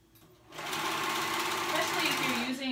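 Serger sewing machine stitching lace fabric, a steady fast whirring hum that starts after a brief quiet moment and runs close and loud to the end.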